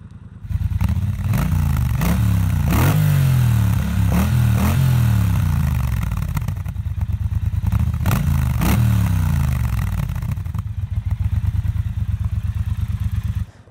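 A Triumph Bonneville Bobber motorcycle starts up and idles with a deep, loud, close rumble, with a few quick throttle blips that rise and fall before it settles back to a steady idle.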